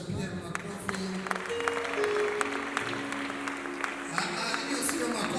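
A church wedding congregation claps to welcome the bride, a scattered, uneven applause that swells and thins over several seconds, heard in a reverberant hall with a voice speaking over it and some background music.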